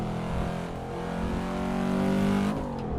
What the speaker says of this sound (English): the 5-cylinder sound is a pretty unique sound